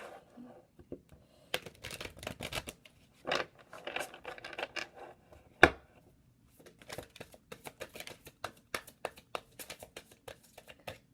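Crisp riffling and flicking of a deck of tarot cards being shuffled in repeated bursts, with sharp slaps and soft shuffles close by, no voices.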